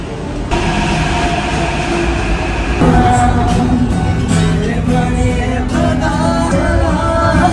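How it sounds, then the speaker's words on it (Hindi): A Hyderabad metro train pulls away from the station and rolls past, a steady loud rumble with rising motor whine and faint rail clatter, continuous throughout. "आता कसे वाटते मेट्रोचा एक्सपिरियन्स? या मेट्रो गेली."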